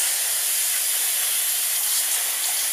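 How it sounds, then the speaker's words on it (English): Tap water runs steadily over shallots being rinsed in a kitchen, a continuous bright hiss of spray lasting the whole moment with no talking. "So I'm going to quickly rinse these off under the tap"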